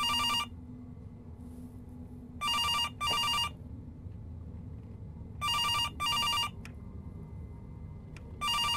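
An old-style telephone rings in an indie game, paired double rings repeating at steady intervals, each short and bright over a low background hum, with no one talking.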